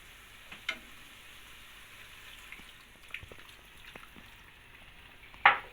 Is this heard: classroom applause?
no